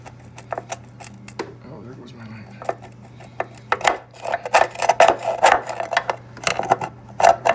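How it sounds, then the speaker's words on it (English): A tool scrapes out the battery box of a 1985 Harley-Davidson FXRS, with rasping strokes that start sparse and become rapid and louder, close up, over a low steady hum. "I'm just cleaning out the battery box here, this old, just scraping it out."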